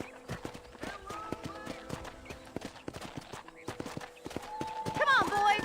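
Horse hooves clip-clop in a steady walking rhythm in the video game Red Dead Redemption, with voices talking over them and a horse whinny near the end.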